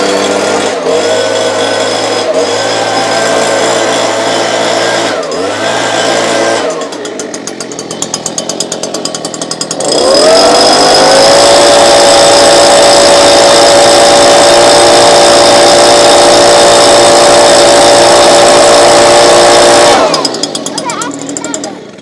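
A Stihl handheld leaf blower with a flat nozzle: idle engine chatter, a brief rev, then a loud sustained high-pitched full-throttle roar for about ten seconds before dropping back to idle.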